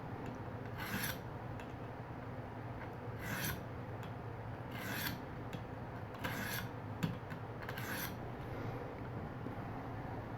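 A knife blade is stroked across a ViperSharp precision sharpener in about six separate rasping strokes, each a short, close, gritty scrape with brief pauses between, and no talk.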